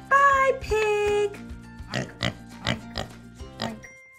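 A farm animal toy plays pig sounds: two long squealing tones, then a run of about six short, rhythmic oinks, close and clear with a faint musical backing.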